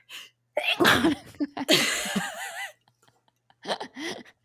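A loud, close sneeze bursts out after a short breath, followed by a quieter second burst of breathy, sneeze-like sounds a moment later.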